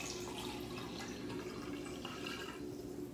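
Water poured from a pre-measured container into a candle jar before adding olive oil, heard as a steady, close trickling and splashing that runs the whole time without talk.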